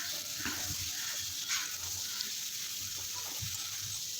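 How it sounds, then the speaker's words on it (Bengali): Cut eggplant fries in oil with a soft, faint sizzle, broken by occasional light clinks and stirring touches. "এখন আমি আগের থেকে কেটে আর ধুয়ে রাখা বেগুনটাকে তেলের মধ্যে একটু ভেজে নেব"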